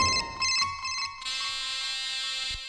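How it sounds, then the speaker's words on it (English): Bright electronic ringtone-style tones chirp in short repeated bursts, then hold as a sustained ringing chord within a Czech rap beat. "it's like a cell phone ringing sound"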